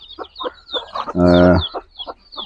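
Young week-old local chicks kept in a cardboard carton cheep and cluck in quick repeated bursts close by, with one louder, sustained call in the middle.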